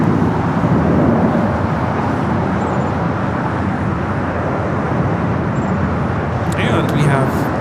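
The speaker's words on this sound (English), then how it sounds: "This is flight 603 coming in from Amsterdam with 787-10 Dreamliner, brand new." A brand-new KLM Boeing 787-10 Dreamliner arriving from Amsterdam at LAX: a loud, steady broadband engine roar runs throughout and dominates the clip, with faint higher whines near the end.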